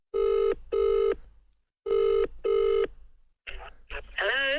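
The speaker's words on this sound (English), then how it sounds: "I can phone my mum now" A phone ringback tone on an outgoing call to a mum: two pairs of double rings with a pause between, clear and close, then the line picks up and voices begin talking.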